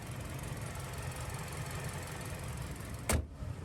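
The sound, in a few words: MINI Cooper S BMW B48 turbo petrol engine running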